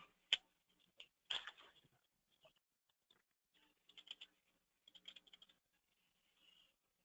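Scattered keystrokes on a computer keyboard, quiet and close, in short irregular bursts with pauses between, plus one or two sharper clicks.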